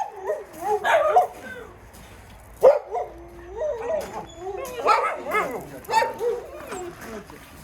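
Small puppies yip and whimper in short bursts close by, while a person talks over them throughout.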